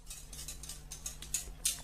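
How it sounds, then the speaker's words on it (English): A whisk tapping and scraping against a bowl while folding scraped-off bits, vanilla pod specks, into homemade ice cream mixture, a light irregular clinking patter with a few sharper clicks, no talking. "whisk those into the mixture too"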